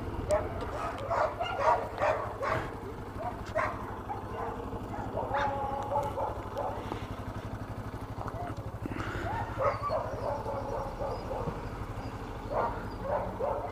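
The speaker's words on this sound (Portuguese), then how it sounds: "3 cachorros dentro do carro" Several dogs bark and yip in quick irregular bursts inside a car, the barking close and lively over a steady low engine and road rumble, with a voice speaking among the barks.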